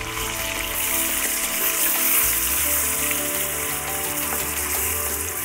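Peshawari namkeen chicken sautés in a pan at high heat with a loud, constant sizzle and a faint background hum. The frying noise stays unbroken from start to finish, with nobody talking.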